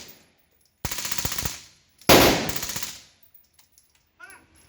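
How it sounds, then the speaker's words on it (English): A suppressed MP5 SD submachine gun fires in the H3VR virtual reality game: two sustained bursts of rapid shots, the second louder and harsher, each trailing off, with faint metallic clicks afterward. "I wanted to fire two of them just because I wanted to see how much that the sort of MP5 SD suppressor bleeds off a bunch of gas"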